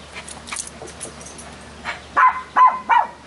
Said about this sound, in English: Why is Peanut barking?